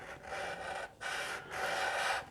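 A 240-grit sanding pad rubs a chamfer along the edge of a guitar body in three steady strokes, each a soft, close, raspy hiss separated by brief pauses.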